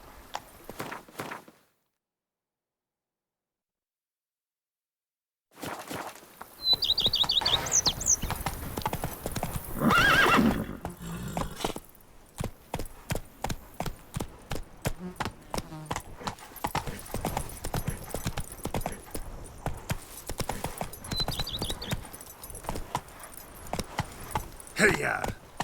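Roach, Geralt's horse in The Witcher 3's Blood and Wine expansion, gallops in a long run of loud, rhythmic clip-clop hoofbeats with tack jingling and an occasional whinny. The start is near-silent, and speech surfaces briefly.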